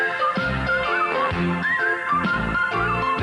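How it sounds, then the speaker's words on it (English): A person whistles along to the It's Garry Shandling's Show theme tune. The bright melodic whistle sits over the music's instruments and carries on steadily throughout. "We're almost to the part of where I start to whistle."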